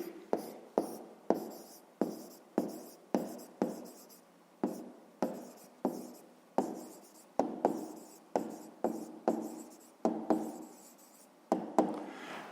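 A pen writes out the answer to a fifth-grade math exercise: a steady series of short scratching strokes, each starting with a sharp tap, repeating close and fairly quiet with no talk.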